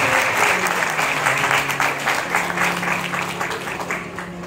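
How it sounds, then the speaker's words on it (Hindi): Loud, thick applause from a large audience welcoming guest groups at a Shree Ram Katha festival, continuous clapping filling the whole stretch at an even level, with a sustained tone or voice running faintly underneath. "जोरदार तालियों में इन संघों का स्वागत"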